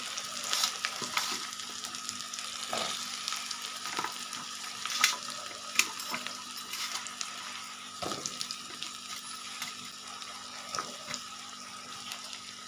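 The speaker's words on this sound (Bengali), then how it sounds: "এবার এই পেঁয়াজের মধ্যে দিয়ে দিচ্ছি কেটে রাখা আলু।" Cut potatoes fry with chopped onions in a pan, a soft continuous sizzle broken by occasional spatula scrapes and clinks, close but quiet, with no talking.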